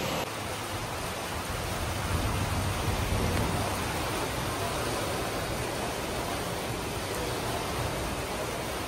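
Heavy rain pours down outside a house as a steady, loud hiss with no breaks, filling the whole stretch.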